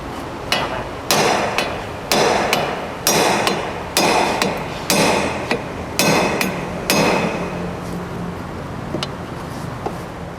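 A hammer strikes a front suspension part on a Nissan Skyline R30 during a suspension replacement, a series of sharp metallic blows in irregular clusters, loud and close, tapering to lighter taps near the end.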